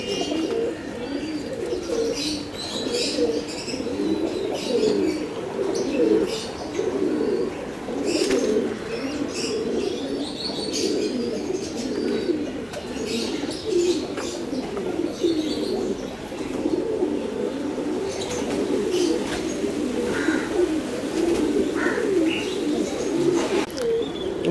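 A flock of pigeons coos continuously at close range, a dense steady murmur of overlapping calls with occasional chirps and faint wing flutters, no voices.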